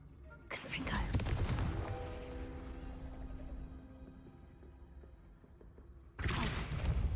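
A Confringo fire spell blasts in Hogwarts Legacy, a loud burst that rings into a fading tone, then a second blast strikes near the end, with a voice heard around it.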